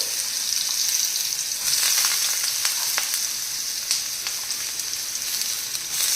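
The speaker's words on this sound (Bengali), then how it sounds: "এই দেখুন তেলটা আমার গরম হয়ে গেছে আমি আলুগুলো ছেড়ে দিচ্ছি" Potato pieces fry in hot oil with a loud, steady, close sizzle, a dense bright hiss that carries on evenly with a few brief crackles and no voices.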